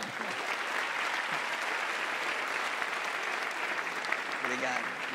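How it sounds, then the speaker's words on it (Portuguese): A church audience claps together in sustained, even applause during a youth service interview, a dense continuous wash of hands heard at moderate distance without a break. "Vale um aplauso essa, hein?"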